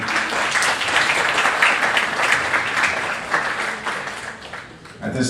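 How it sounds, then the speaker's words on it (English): Audience applause at a school athletic achievement ceremony honoring a coach, a steady dense wash of clapping hands that holds for several seconds before tapering near the end, with voices mixed in. "One more round of applause."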